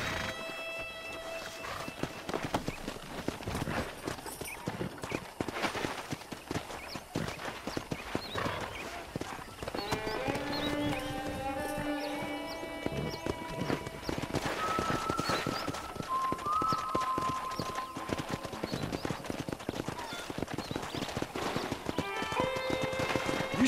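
Steady clip-clop of galloping wild horses, with occasional whinnies and scattered voices, layered over game music and ambient background noise for a long stretch, in the video game Red Dead Redemption.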